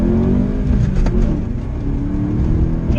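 A lowered Volkswagen W8 with a six-speed gearbox and a Remus exhaust pulls away under light throttle, its engine note close and loud with a rising, throaty hum and no talking.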